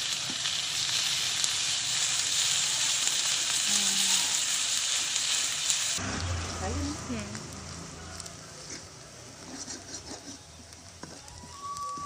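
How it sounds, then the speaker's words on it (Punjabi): Cumin seeds dropped into hot oil crackle with a loud, dense sizzle that drops to a softer, uneven spatter halfway through. A voice is present at times. "ਤੇਲ ਗਰਮ ਹੋ ਗਿਆ ਅਤੇ ਹੁਣ ਆਪਾਂ ਜੀਰਾ ਪਾ ਦਾਂਗੇ।"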